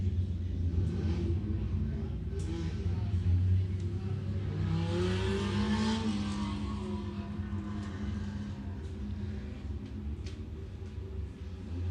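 Junior speedway race cars rev and rumble on a dirt track at night, a steady mid-distance engine drone that swells as cars pass, under faint announcer talk.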